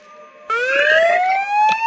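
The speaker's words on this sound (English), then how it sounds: "Guys, the Siren is right there." In the game Minecraft, the Siren Head creature lets out a loud, close siren wail that starts abruptly and rises steadily in pitch over about a second and a half, heard alone.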